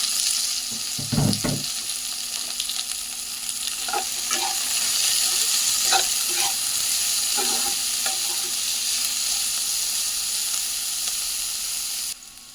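Shredded cabbage, carrot and capsicum stir-fried for chowmein, a loud continuous sizzle with intermittent scraping stirs of a spatula in the pan, heard close up without talk.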